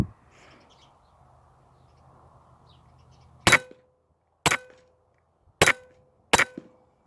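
Four sharp, crisp cracks from a Huben K1 air gun shooting at a rabbit, spaced about a second apart after several seconds of quiet outdoor ambience with faint birdsong.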